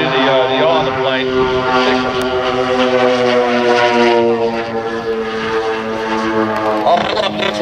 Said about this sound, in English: when he's up in a vertical position getting ready to torque roll, you can hear the motors coming up and down